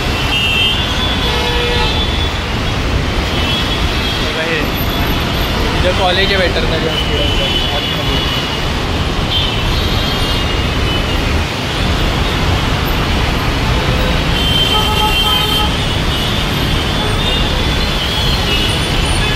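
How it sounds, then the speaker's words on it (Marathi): Dense road traffic jam near a veterinary college and hospital, a steady roar of engines and vehicles filling the whole stretch, with someone talking over it throughout. "ट्रॅफिक जाम आहे इथे ना"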